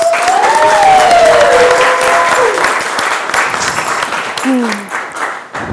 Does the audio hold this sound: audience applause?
yes